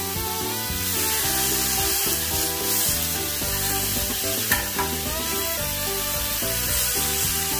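Pork sizzles steadily on a hot Thai mu kratha grill pan at a New Year's Eve countdown meal. The constant crackling hiss plays under music, with one brief sharp pop midway.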